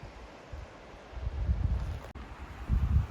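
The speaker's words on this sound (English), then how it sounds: "A windy day as usual here." Wind gusts across a dry mountain trail near Medicine Grizzly Lake, blowing as a low, rumbling roar of microphone buffeting that swells and eases in uneven surges, with no talk.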